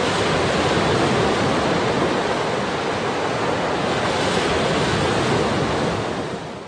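Ocean waves surge and wash in a constant, loud roar of broadband surf, steady for several seconds before easing slightly at the end, with no voices.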